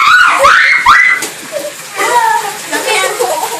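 A cat yowls loudly during a bath, rising wails up close over splashing water, with children talking and laughing around it.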